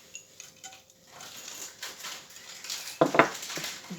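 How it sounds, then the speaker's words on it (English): A metal baking tray of roasted cauliflower slides back into an oven, a brief scraping rattle followed by a sharp metallic clatter as it settles, close and moderately loud with no talking. "And just pop that back in the oven."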